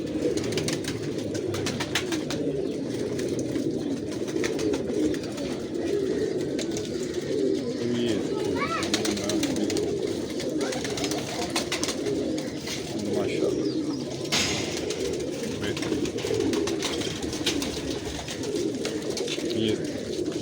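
Pigeons coo steadily in a breeding loft, a dense continuous chorus of low throaty calls from many birds close by, with faint background murmurs throughout.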